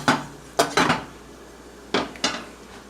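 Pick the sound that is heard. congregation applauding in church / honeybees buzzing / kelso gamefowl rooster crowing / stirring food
stirring food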